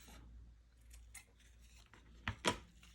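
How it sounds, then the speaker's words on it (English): Scissors trimming excess material from a small craft bonnet hat pin, a couple of quick crisp snips near the end after quiet handling rustles, close and faint. "Trim this off"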